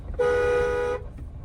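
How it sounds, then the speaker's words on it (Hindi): A single loud car horn honk held steady for just under a second, close by, with road rumble before and after. "हॉर्न बजाते रहिए, हॉर्न कंटिन्यू बजाते रहिए।"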